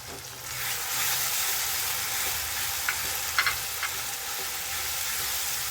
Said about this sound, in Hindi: इसको अच्छे से हम भूनेंगे। गैस की फ्लेम को हमने अभी मीडियम कर दिया है